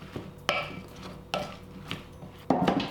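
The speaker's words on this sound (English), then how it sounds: "And give those a stir as well." Potatoes seasoned with garlic and onion powder stirred in a bowl: three distinct scraping, clattering strokes against the bowl with quieter gaps between, close by and without voices.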